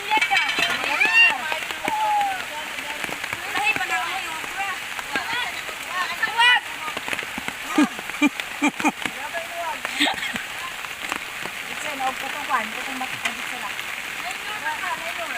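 Heavy rain falls steadily throughout as a dense, continuous hiss with scattered drips, while people talk over it nearby in an outdoor cooking setting.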